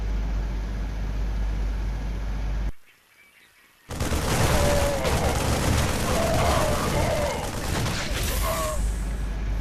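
StarCraft 2 battle as a squad of six Marines opens fire on a bunker: dense, loud gunfire crackle and booms that break off into a brief near-silence, then resume as a heavy sustained barrage.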